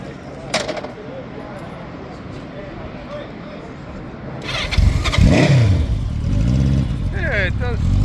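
A 650 motorcycle engine cranks and catches, then revs up loud and close and settles into a throaty running note. People talk over it throughout.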